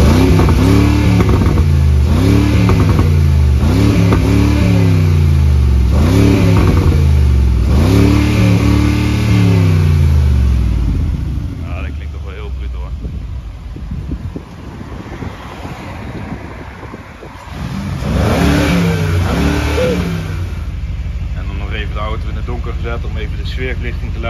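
A deep 4-litre V8 engine in a Mercedes G-Class revs hard in repeated bursts, roaring up and dropping back, then settles into a quieter rumble with wind buffeting before another rev.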